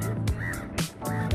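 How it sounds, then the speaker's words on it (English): Ducks and other birds on a lake in Wakefield being fed bread, close, loud quacking and honking calls in quick overlapping bursts. "Yeah, so many ducks."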